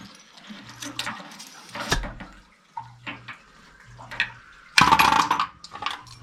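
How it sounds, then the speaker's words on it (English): Water drained from a seven-year-old leaking water heater tank splashes and trickles in intermittent gushes into a container, with faint metallic clinks and a louder splash near the end. "we'll just let that drain out a little there"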